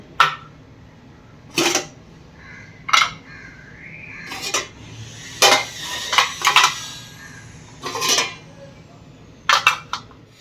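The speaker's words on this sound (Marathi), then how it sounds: "आपण आता एक एक इडली पात्र खाली उतरून घेऊ. एक एक प्लेट आपण काढून घेऊ." Metal idli steamer plates for steamed sabudana papad are lifted out one at a time, giving a series of bright, separate clanks and clinks at irregular intervals, close by, with quiet kitchen background between them.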